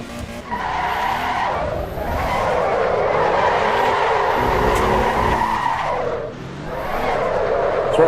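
Tire squeal from a Porsche sliding into oversteer in the racing game Assetto Corsa EVO, a loud sustained screech over a revving engine, easing off briefly before returning.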